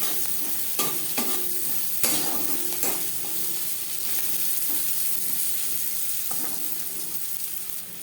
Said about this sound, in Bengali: পেঁয়াজ ভাজা হয়ে এসছে।